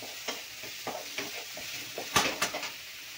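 Onion being stir-fried in a pan for a veg momo filling, with a soft background sizzle and a series of scraping stir strokes, two sharper clanks near the end.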